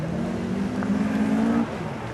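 A rally car on a special stage at night passes at a distance, its engine note holding steady and then dropping away as it goes by, faint against the background.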